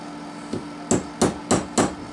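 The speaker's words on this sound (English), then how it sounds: "Okay, and then we'll get our centering punch again. Try and get it as center as you can get it." A hammer taps a metal centering punch five times, sharp close metallic knocks at a steady quickening pace in a quiet room.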